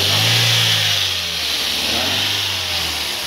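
Toyota Vios engine revving with a clogged exhaust and low power, a loud, close, continuous rough engine roar that rises and then eases slightly, heard alone.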